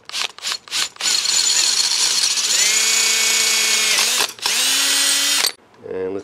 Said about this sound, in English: Make that hole a little bigger, the bigger drill bit.